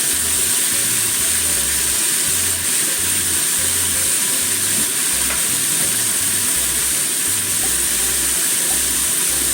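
Spring cabbage stir-frying in a pan on a home stove, a loud continuous sizzle with a steady low thumping beneath it as the pan is worked, and no talking.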